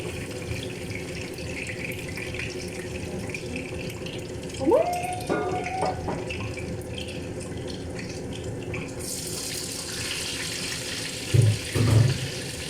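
Water runs steadily from a kitchen tap during cooking, a continuous close hiss that holds throughout, with a few brief clinks and knocks on top.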